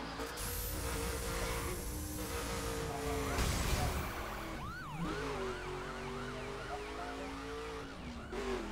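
A police car siren wails in The Crew racing video game, a wavering electronic siren sweeping up and down in repeated cycles over steady engine noise, fairly faint in the mix.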